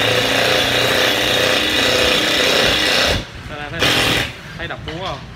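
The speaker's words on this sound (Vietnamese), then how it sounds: "Nếu anh bắn bằng máy vít thường đây, mấy con cùi cùi này bắn ra nó nhỏ vậy thôi, nhưng nó cũng phát ra tiếng động lớn lắm" A small cordless impact screwdriver hammers loudly in a sustained burst, then stops and gives two shorter bursts as someone talks close by.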